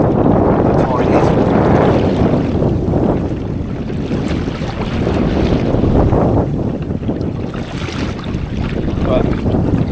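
Strong wind roars and buffets the microphone continuously while kayak fishing at sea off Devon, with water sloshing faintly underneath.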